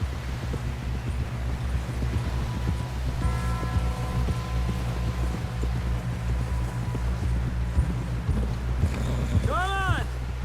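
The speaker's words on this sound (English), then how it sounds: "Someone help John down off this horse." Horse hooves clip-clopping steadily in Red Dead Redemption 2, a rapid rhythmic patter over constant low wind and game ambience, with a short whinny-like tone near the end and no clear talk.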